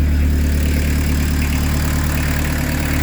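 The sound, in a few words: diesel car engine idling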